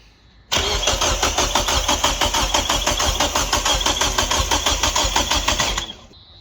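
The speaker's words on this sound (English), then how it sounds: "It sounded like some compression leaking somewhere, but yeah, go again" A Mitsubishi Lancer with a turbocharged 4G93 engine, suspected of a compression leak, cranks steadily with a rapid even chugging for about five seconds, close and loud, then cuts off without settling into an idle.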